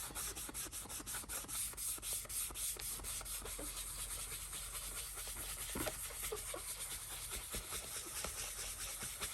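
A pad rubs metallic finish onto a cosplay shield, a steady back-and-forth scrubbing that continues closely and evenly without pause throughout, with no talking.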